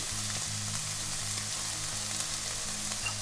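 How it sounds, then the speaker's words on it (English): Corn slurry hits stir-fried vegetables in a pan over medium heat, producing a steady, close sizzle with a low pulsing hum underneath and no voices. "It's time to add in your corn slurry."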